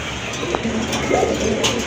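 Caged male and female pigeons give soft, low rolling coos, a few spaced calls heard close up over a steady background noise.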